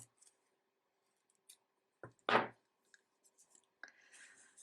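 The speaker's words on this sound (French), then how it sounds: "Et je coupe." Scissors snip through yarn while a child's cardigan sleeve is being crocheted, a single sharp close cut standing out among faint handling rustles and a few light clicks.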